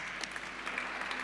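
A brief burst of applause, many hands clapping steadily for a moment.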